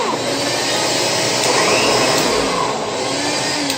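An Electrolux Special Edition vacuum cleaner running on suction, a loud steady motor whine and airy roar held constant throughout, close to the microphone.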